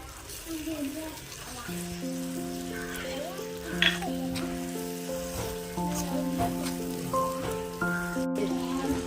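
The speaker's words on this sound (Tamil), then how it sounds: "திருப்பி நல்லா வதக்கிக்கலாம்" Ingredients for a chicken gravy sauté in a pan with a steady, moderate sizzle and scattered spattering close by, while tonal music plays underneath.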